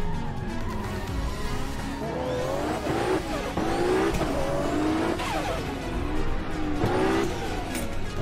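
A JDM street car in the Assetto Corsa racing game, its engine droning steadily with rising and falling revs, repeated shifts and tire squeal as it is driven hard, loud and continuous for the whole stretch.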